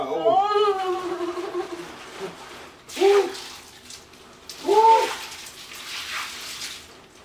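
Water sloshes in a freezing ice bath as a person shifts around, two distinct splashy surges standing out over a steady wet background, with voices making strained, pained sounds near the start.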